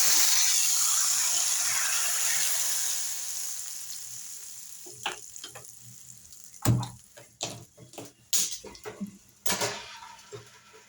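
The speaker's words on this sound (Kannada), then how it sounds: "ಇವಾಗ ಸಾರು ರೆಡಿ ಆಗಿದೆ ಅಲ್ವಾ ಅದಕ್ಕೆ ಒಗ್ಗರಣೆ ಸೇರಿಸ್ತಾ ಇದ್ದೀನಿ" A burst of hissing sizzle as hot spice tempering is poured into rasam, settling into scattered clinks and stirring noises in a kitchen, with no talking.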